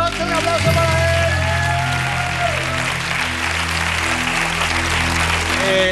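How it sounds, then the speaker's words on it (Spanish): A game show studio audience applauds a contestant with dense, continuous clapping from start to finish, while music plays underneath. "¡Un aplauso para él!"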